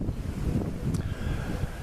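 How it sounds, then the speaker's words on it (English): Gusty outdoor wind buffets the microphone on a gloomy day in a yard with dying trees, a steady low rumble holding for about two seconds at close range with no one speaking. "Sorry about the wind, it's a gloomy gust day."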